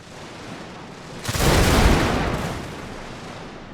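A massed musket volley erupts in a Victoria Total War battle of the Mexican-American War, a single loud rolling crackle of many shots that swells and fades over about two seconds against a low ambient hum.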